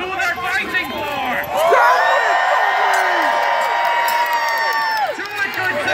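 A crowd of lords and ladies cheering loudly, a sustained mass of whoops and shouts that swells after the first second and stays dense and close throughout.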